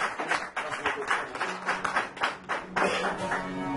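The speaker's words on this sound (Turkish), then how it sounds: "Alkışlıyorum." An audience at a Turkish folk minstrel dueling event claps in quick, uneven bursts of applause for a few seconds, with a faint voice mixed in.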